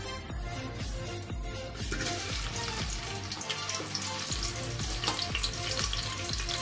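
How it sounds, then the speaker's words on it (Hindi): Chopped onions fry in hot refined oil for a vegetable biryani, a bright steady sizzle that grows louder partway through, with soft clinks and music-like tones underneath and no speech. "तेल टे गरम पर काटी थे पियाज भी पकईदेवा"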